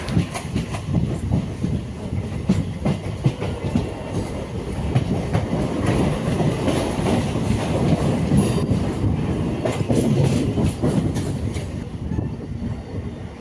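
Local EMU electric train running on rails between Avadi and Ennore, a steady loud rumbling roar with rhythmic rattling and clatter of wheels throughout, heard from inside the moving train with no talk.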